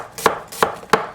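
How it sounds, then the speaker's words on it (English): A knife slices onions thinly on a cutting board in three crisp, evenly spaced chops, close and clear with no talking. "For my onions, use my fingers as a guide and make some nice thin slices"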